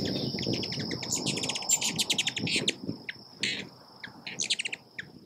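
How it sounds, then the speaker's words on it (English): Ruby-throated hummingbirds at feeders in a nature center's bird and butterfly sanctuary, with bright chirps and twittering calls in quick bursts over a steady buzzing insect drone. "Let's fly over to Plum Creek Nature Center to view the ruby-throated hummingbirds."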